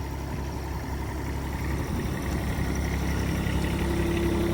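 Engine of a 2.5 Chinese mini excavator running steadily as it is driven slowly to a container, a constant low rumble with a faint whine building near the end.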